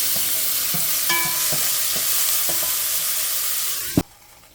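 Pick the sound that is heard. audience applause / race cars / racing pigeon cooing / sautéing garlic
sautéing garlic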